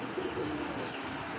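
A red female pigeon cooing softly, a brief low murmuring coo set against a quiet, hissy background with no voices.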